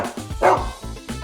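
A dog barks in a quick run of short, close yaps and woofs, several sharp bursts in a row with no talk.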